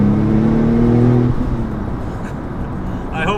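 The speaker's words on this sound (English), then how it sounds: "when the turbos kick in and that power band hits, it just sounds like a monster" Porsche 911 Turbo making over 800 horsepower, engine note loud and close with a rising harmonic drone that fades into rougher rumble as the revs settle, with no speech.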